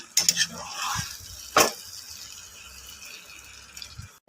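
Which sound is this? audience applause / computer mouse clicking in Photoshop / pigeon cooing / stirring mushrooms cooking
stirring mushrooms cooking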